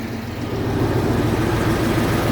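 A restored 1970 Massey Ferguson 1150 tractor with a V8 engine runs steadily nearby, a loud, even low rumble with no voices over it.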